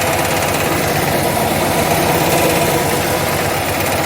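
A 1966 Austin Healey Sprite engine, just running on its own again after a fuel pump fault, idles close by with a steady, even rumble and a fine mechanical buzz, no voices.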